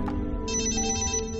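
A telephone ringtone plays a short, bright electronic ringing phrase in an indoor drama scene, fairly clear with a soft background hum and no talking over it.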